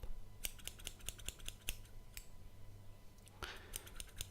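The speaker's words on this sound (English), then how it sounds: "this is just a quick snip on top" Scissors snip hair during a quick trim on top at a barbershop: a rapid run of small, crisp close-up clicks, then a pause and a softer brushing rustle before more snips, all quiet and intimate.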